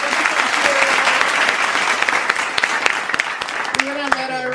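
An audience gives a round of applause, with dense, steady clapping at a close, loud level. A voice speaks over the applause near the end.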